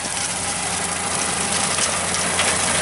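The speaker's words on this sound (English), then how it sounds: "It's cutting through it like on a low RPM." A 5 ft brush hog mower with new blades cuts through tall grass at low RPM, a steady, loud, broadband engine and blade rumble that holds evenly throughout, with no talking.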